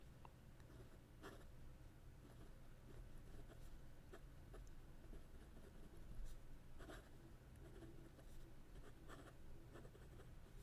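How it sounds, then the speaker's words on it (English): A fountain pen with a chrome-finish nib, a Ranga Model 3 in Ultem, scratches steadily across paper, close up and continuous, with small clicks of strokes and no talking. "just want to test the pen for you."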